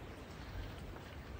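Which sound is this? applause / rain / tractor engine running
rain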